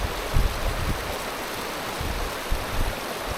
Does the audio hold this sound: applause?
no